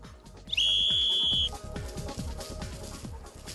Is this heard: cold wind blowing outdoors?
no